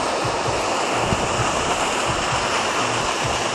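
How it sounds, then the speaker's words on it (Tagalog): Heavy rain pouring at a campsite during a motorcycle camping trip, a loud continuous broadband hiss with no breaks and no voices. "Ayan o, kita nyo, lakas ng ulan."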